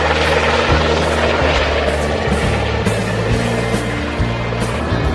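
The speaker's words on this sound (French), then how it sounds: "l'incroyable impression du survol en hélico, avec musique de Strauss, trous d'air et vibrations" Helicopter flight on a US road trip tour, heard from inside the cabin as a loud, steady rotor drone with rhythmic thumping and engine hum, with music underneath and no talk.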